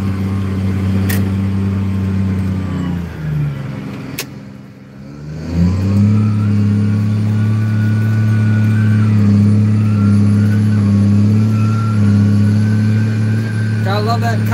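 A Cummins diesel truck engine drones steadily and loudly at close range with strong low harmonics, dipping briefly as it shifts before settling back into a constant heavy rumble, with faint clicks and a beep near the end.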